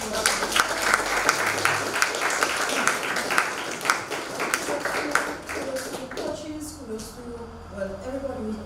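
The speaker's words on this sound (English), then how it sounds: "Round of applause." Audience applause at an inter-secondary schools debating competition, a dense, steady clapping crowd for about six seconds that thins and fades out, with faint voices underneath as it ends.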